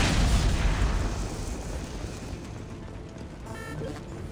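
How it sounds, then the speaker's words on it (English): A deep explosion goes off behind a door in the sci-fi game Mass Effect 2, a heavy low boom at the start that rumbles and decays over several seconds, with a faint mechanical tone near the end. "after being greeted by an explosion behind another door"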